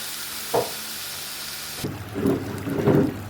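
Tomato sauce frying and being stirred in a pan while making pizza, a soft sizzle under a couple of scraping stirs, then a louder burst of sizzling and spoon strokes toward the end.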